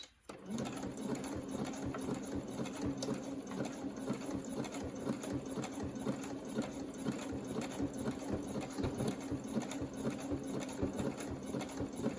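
Running fast, a sewing machine stitches a fabric ruffle with a continuous, even, rapid mechanical whir that holds steady from start to finish, fairly quiet and close, with nobody speaking.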